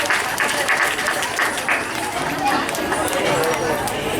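A school audience in Bangalore claps for children who have just performed a Karnataka classical dance. The applause is a dense, steady wash of clapping, mixed with crowd chatter, for about four seconds.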